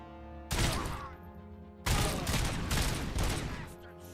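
Heavy gunfire from Robocop Rogue City, two loud broadband bursts with sustained ringing reverb and a few follow-up shots, near and dominant, with no talk over them.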